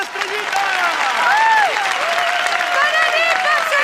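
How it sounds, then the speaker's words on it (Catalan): A theatre audience at a live stage show claps and cheers loudly and steadily throughout, while a performer's voice rises and falls over the applause. "¡Un aplaudiment para Estrellita!"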